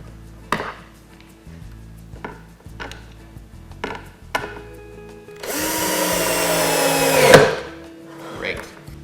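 Power drill driving a screw into birdhouse wood, one loud close whirring burst of about two seconds that bogs down and stops with a thud, after several quiet knocks and taps of handling.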